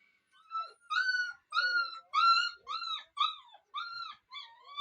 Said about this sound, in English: Got the dogs back in the house.